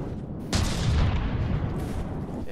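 Mortar fire in a video game battle, a deep boom followed by a rumbling roll that lingers and fades, loud and low with no voices.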